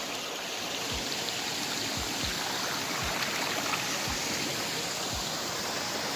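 Clear mountain stream rushing steadily along a hiking trail, a continuous close wash of flowing water with a few low thumps from handling, no voices.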